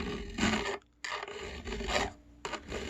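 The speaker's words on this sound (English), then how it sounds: "I'm just going to take a file and just keep working" Hand file rasping across the wooden edge of a ukulele under construction, repeated back-and-forth strokes close up with short pauses between them.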